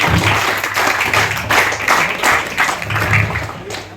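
An audience at an NCC shooting championship award ceremony claps continuously through the clip, a dense, loud round of applause heard from within the crowd.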